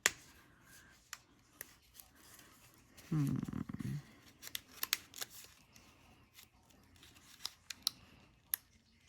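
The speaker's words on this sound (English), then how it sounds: "I could cut off more of the flowers." Scissors snip paper flowers on an Easter card in quiet, scattered cuts, with a louder rustle of paper partway through.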